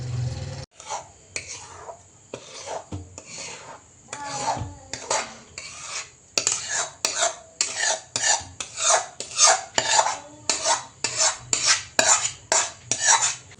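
Roasted besan ladoo mixture scraped onto a plate to cool, a ladle or spatula rasping against metal in a long run of rhythmic scrapes that grow faster and more regular toward the end, close and clear with no talk.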